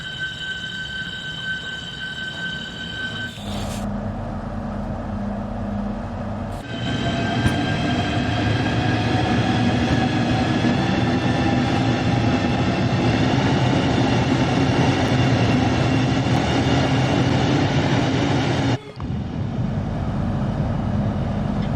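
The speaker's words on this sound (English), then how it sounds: "We're also now going to release the brakes and move on to Faversham" A train in Train Sim World 2 pulls away after its brakes release on the London line toward Faversham, a steady loud rumble of motor hum and rolling wheels building and holding with no talk, after a brief tonal whine at the start.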